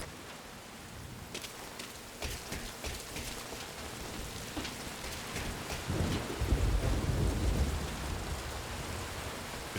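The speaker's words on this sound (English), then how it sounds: "That rain just won't let up." Steady rain pours on surfaces in a stealth video game set in a prison camp at night, with rumbling thunder swelling louder around the middle and sharp drops pattering throughout, no voices.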